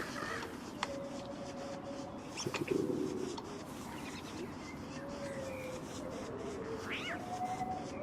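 Several cats in the game Don't Starve meow and caterwaul at intervals over a quiet ambient background, with a few soft cooing bird calls mixed in.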